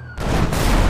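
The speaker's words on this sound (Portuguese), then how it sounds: "Os caras estão atirando!" Gunfire in GTA roleplay erupts suddenly after a quiet start, a loud dense burst of shots and booms filling the rest of the short moment without any voices.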